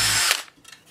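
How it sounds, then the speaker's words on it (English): A power drill bores straight through an open piece of wood with nothing beneath it, a loud close whine that cuts off after a moment and is followed by faint clicking. "So we'll just drill it on its own like an open piece of wood"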